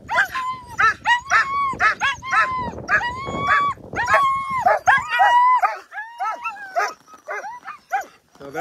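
A sled dog team at a checkpoint of the Copper Basin 300 race barks, yips and howls in excited, overlapping bursts close by, loud and continuous, with a person talking among them.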